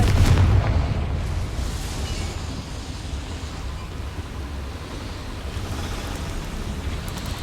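Confringo blasting curse explosion in Hogwarts Legacy, cast at a boiler: a loud booming blast at the start decays into a long, steady rumbling wash of debris and noise.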